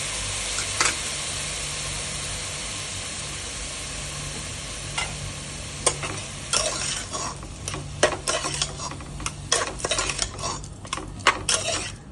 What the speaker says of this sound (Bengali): লাউটা একটু ভাজা ভাজা করে নেব